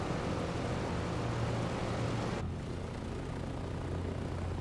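A DC-3 radial engine starting up in Microsoft Flight Simulator 2020, a loud continuous rumbling roar that shifts abruptly partway through as the engine catches and settles into a steadier drone.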